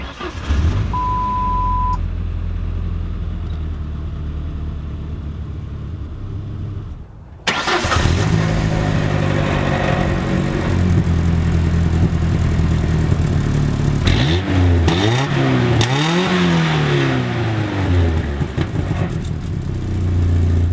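A 1998 Ford Ranger XLT pickup engine, fourth generation with a manual transmission, cranks and catches with a loud jump, then settles into a steady, rumbling idle with a few brief revs near the end.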